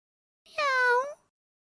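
A single clear cat meow, close and tonal, rising then falling over about half a second, heard alone against silence as a cartoon story sound effect.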